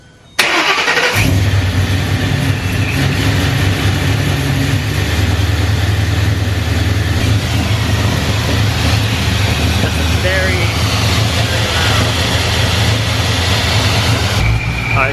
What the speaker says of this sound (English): fire her up and see how she sounds with that very loud sound of the blow-off valve